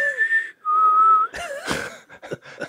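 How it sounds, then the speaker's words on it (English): A man whistles a short tune, with a few clear held notes followed by a quick run of chirpy phrases, close and alone. "and then I'll whistle."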